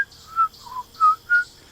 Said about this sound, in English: I just keep hearing this whistling